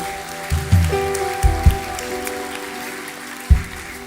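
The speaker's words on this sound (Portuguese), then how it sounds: "Dê uma salva de palmas ao Senhor" A church congregation applauds in a steady, rain-like patter that carries on alongside sustained musical tones, with a few low thumps sounding at intervals.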